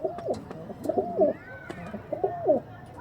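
Small pigeons coo in a repeated burst of soft, throaty rolling calls, two clear phrases a second or so apart, close by with faint background noise and no talk.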